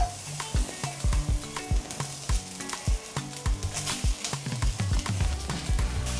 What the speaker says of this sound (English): I'm just going to start off by frying these vegetables.